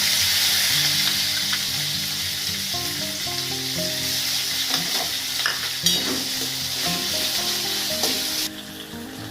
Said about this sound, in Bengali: জিরে ফোড়ন দিয়ে এইবারে আমি এর মধ্যে পেঁয়াজ, সব মশলা দিয়ে দেব।